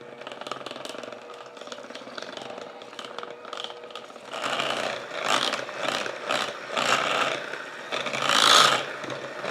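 An electric beater mixing sweet potato pie filling, a whirring, rattling motor buzz that runs steadily then grows louder and pulses in surges as the mixture is worked, close up with no talk.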